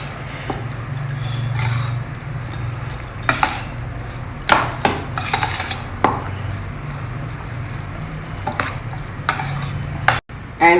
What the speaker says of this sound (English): Mix everything well together.